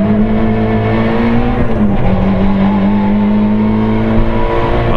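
Rally car engine heard on-board, a loud steady howl rising in pitch as it accelerates along the stage, with no pause in the drone.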